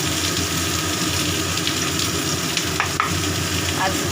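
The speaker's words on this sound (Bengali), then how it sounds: "ভাজা ভাজা হোক আলু কচু ভাজা হয়ে গেছে" Continuous loud sizzling of potato and taro frying in hot oil, with a few light clicks of a utensil against the pan, no voices.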